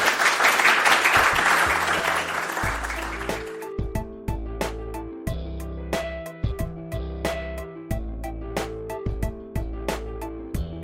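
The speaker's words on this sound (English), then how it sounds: "Please give a round of applause for Nancy and Amrita." An audience at a live founders event bursts into loud applause that fades after a few seconds, giving way to a rhythmic series of music notes.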